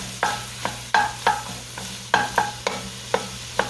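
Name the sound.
black-eyed peas and vegetables cooking on the stove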